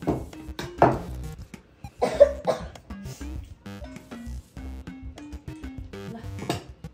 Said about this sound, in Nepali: किन खोकिरहेछ यो